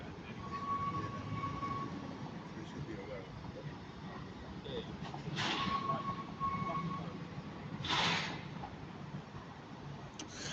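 Class 397 TransPennine Express unit 397008 pulls out of Manchester Piccadilly with a low steady rumble that swells, a squeal and hiss passing partway through, while someone speaks over it.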